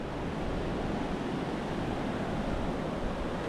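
Steady ocean waves wash onto the shore at Charltons bar, Cambois, Northumberland, a continuous broad hiss of surf at moderate level with no speech.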